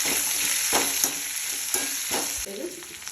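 Small pieces of ivy gourd fry in a pan with a loud, close sizzle, broken by a few stirring scrapes and clatters before the hiss settles at the end.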